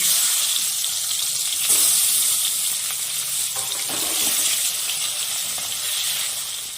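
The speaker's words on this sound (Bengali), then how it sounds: "বাকি মাছগুলো একইভাবে ভেজে নেব।" Tengra fish frying in hot oil in a home kitchen, a steady, dense sizzle and crackle that stays loud and close throughout, with no talking.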